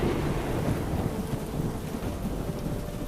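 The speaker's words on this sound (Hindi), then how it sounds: "अरे यार, ये बारिश तो रुकने का नाम ही नहीं ले रही है" Steady heavy rain pours down with a continuous low thunder rumble in a cartoon storm scene, dense and unbroken for several seconds.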